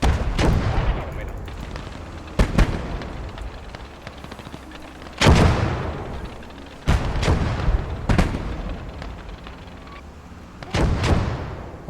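Mortar and artillery fire in the war game Blood Red Snow: about six sharp booming blasts at irregular intervals, each with a rumbling tail, over quieter battlefield ambience and faint background talk.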